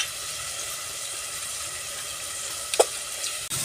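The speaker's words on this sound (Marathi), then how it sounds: "ह्याला आता चांगलं तेल सुटेपर्यंत परतून" Chicken biryani masala of fried onion, tomato paste and chili powder sizzles in oil in a pan with a steady close hiss, broken near the end by a couple of quick knocks of a stirring spoon.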